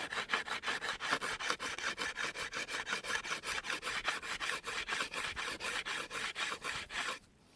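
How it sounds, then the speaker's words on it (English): A block sander rubs back and forth along the edge of a bamboo bow where the rind meets the pith, a fast, even rasping rhythm of short strokes that stops abruptly at the end. "your block sander and you're going to round off the edge where the back of the bamboo, the rind,"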